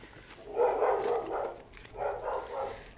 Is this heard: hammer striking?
no